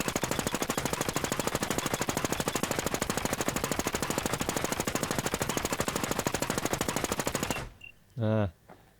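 SIG SAUER 556 rifle in the video game Infestation fires a long, rapid automatic stream of close, loud shots for several seconds, then stops abruptly, followed by a short clattering mechanical sound.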